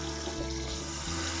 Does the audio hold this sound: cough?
no